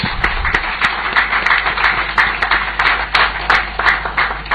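Audience at a presidential advisory group swearing-in ceremony breaks into applause for Her Excellency, a loud run of claps with sharp individual hits across several seconds.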